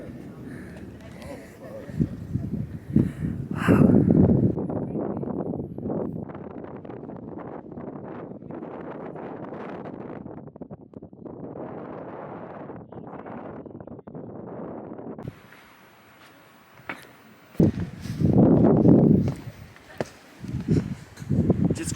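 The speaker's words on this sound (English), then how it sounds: "it's totally scary when it's windy as shit" Strong wind gusts buffet the microphone on a clifftop hiking trail in Sedona, Arizona, producing loud low rumbling bursts that rise and fall over about twenty seconds, with people talking intermittently underneath.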